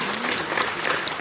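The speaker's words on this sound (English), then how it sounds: "Big round of applause." A brief burst of dense audience applause at an international AI and data science conference, continuous clapping filling the moment.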